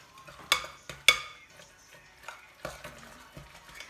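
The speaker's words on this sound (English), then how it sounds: "all you have to do right now is just start combining and mixing that up" Lahmacun topping of onion, garlic, parsley and spices being combined and mixed by hand in a bowl, giving soft close squelches and a few sharper clinks against the bowl at an irregular pace.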